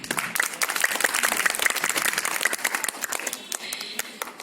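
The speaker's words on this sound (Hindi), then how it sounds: "तालियां जरा जोर से बजाइए" Clapping from a school audience at a quiz programme in a Nagpur high school, a brisk burst of many hands that swells and then fades out near the end, with no talk over it.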